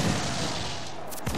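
Ship cannon fire from a naval battle in Assassin's Creed IV Black Flag, a dense, sustained rumble of booming shots with a sharper blast near the end.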